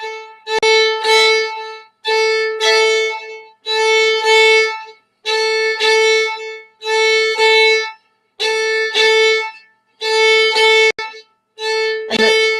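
Fiddle played with split half bows, short even up and down strokes in a steady repeating rhythm, close and clear with brief gaps between bowed notes, no talking.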